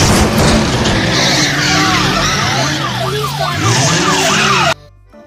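A cartoonish car sound effect plays in a children's ABC phonics song: tires screech and a wailing siren rises and falls. It is loud and continuous, then cuts off suddenly near the end.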